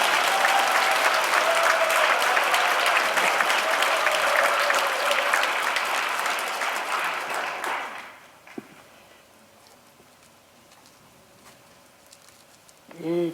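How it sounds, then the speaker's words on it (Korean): An audience at a parish reading concert claps in loud, sustained applause for about eight seconds. It then dies away into quiet room noise, with a brief sound near the end. "박수 보내드립니다."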